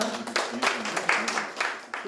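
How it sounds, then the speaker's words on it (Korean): An audience at a policy forum in Seoul on support for young people leaving state care applauds a committee chair being welcomed, with a string of sharp claps and a voice heard over them. "힘찬 박수 부탁드리겠습니다"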